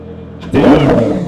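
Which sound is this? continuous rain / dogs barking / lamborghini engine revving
lamborghini engine revving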